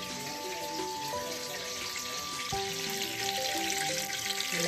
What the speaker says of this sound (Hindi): मैंने इस तरफ घी को गर्म किया और उसमें मैं गोश्त डाल दूंगी और साथ सारे मसाले डालूंगी